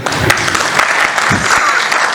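A brief burst of audience applause at a Haryanvi comedy poetry gathering, dense clapping from many hands, loud and continuous for a couple of seconds.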